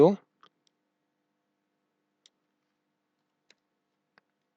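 Mouse clicks while operating point cloud software: three or four faint, isolated single clicks spaced a second or more apart, following a brief bit of speech at the very start.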